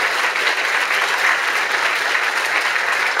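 Applause from an audience at a French political speech, dense steady clapping sustained throughout at close range, with no voices over it.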